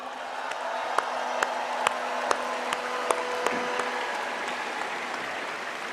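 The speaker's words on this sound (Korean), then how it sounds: "큰 박수 부탁드립니다." A large crowd applauds steadily at a Korean political party convention, a broad even roar of clapping with a few sharp pops standing out, filling a big hall.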